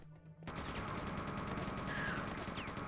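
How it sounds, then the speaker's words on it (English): Continuous machine gun fire in the video game Quake 2 starts abruptly after a short quiet moment and holds as a dense, loud, unbroken rattle to the end, with faint whooshing effects mixed in. "machine gun"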